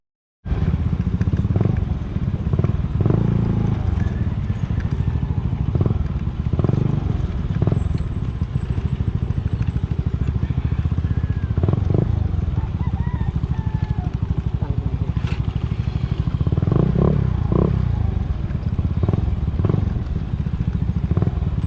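A lowered motorcycle's engine rumbles continuously while the bike jolts over a rough road, with intermittent clattering and knocking bursts throughout.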